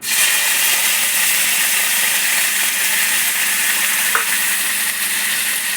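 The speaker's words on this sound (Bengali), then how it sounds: "কারি পাতাটা এবার একটু ভেজে তুলে নিলাম।" Curry leaves fry in hot oil in a pan, giving a loud, dense, continuous sizzle that stays steady throughout, with one brief click near the end.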